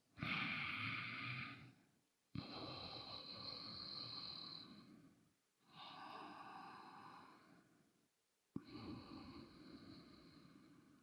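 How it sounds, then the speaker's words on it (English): Four slow, audible nasal breaths alternate in and out, each a long airy rush separated by brief silences, close and steady. "Breathe in through your nose and out through your nose."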